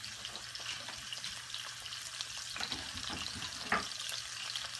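Vegetables sizzle as they go into a hot pan, a steady soft hiss with light crackles and a brief louder spatter near the end, fairly quiet and close, with no talking.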